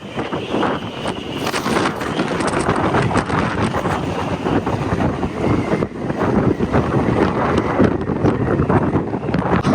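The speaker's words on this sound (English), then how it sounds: "This wind is so crazy." Strong gusty wind buffets the microphone outdoors, a loud continuous roar that swells and rushes for the whole stretch with no clear voices.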